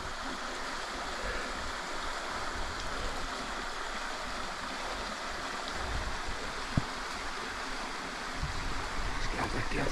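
River rapids rush in a continuous dense roar of flowing water, steady and fairly close, with no break across the stretch.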